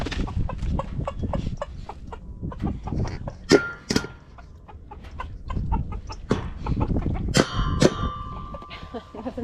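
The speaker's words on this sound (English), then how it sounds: "What's up, chicks? Chickens." Backyard chickens cluck and squawk close by in a busy, uneven stream of short calls, with a few louder sharp squawks rising above the steady flock chatter.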